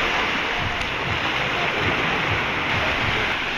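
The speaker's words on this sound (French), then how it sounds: "il y a juste à se laisser porter par le bruit des vagues" Ocean surf on a quiet Caribbean island shore roars in a steady, loud, continuous wash, with no voices over it.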